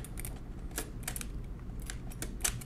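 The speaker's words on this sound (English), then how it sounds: "So I can push down on a key and it locks itself." Keys pressed on the keyboard assembly of a 1920s Monroe model K mechanical calculator during disassembly, a series of close, sharp mechanical clicks and clacks in an irregular rhythm, with no talking.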